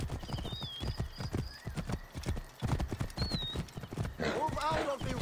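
Horse hooves clip-clop steadily on a road in the video game Assassin's Creed Origins, a quick repeated rhythm with a brief whinny near the end and voices talking over it.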